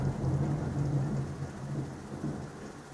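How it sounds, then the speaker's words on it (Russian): Thunder rumbles low and continuous beneath a steady hiss of heavy rain, heard through an open window during a windy thunderstorm, with no voices. "Итак, я открыла окно. Надеюсь, вы слышите этот дождь."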